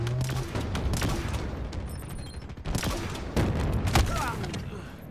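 Rapid bursts of gunfire in the Fracture map of a first-person shooter, dense and loud throughout with a few heavier booms, and occasional voices mixed under the shooting.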